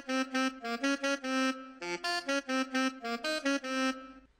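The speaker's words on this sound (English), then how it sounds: "In this case, I went with the alto sax," An alto sax lead from an FL Studio software plugin plays a short melodic phrase of clipped, separated notes in a bouncy rhythm, clear and alone with no talk.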